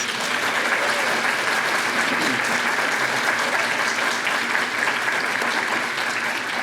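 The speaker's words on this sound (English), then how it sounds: "Let's give them all a round of applause, please." Large audience at a university College of Education scholarship awards ceremony applauds honored teachers, a loud, sustained, even roar of clapping throughout.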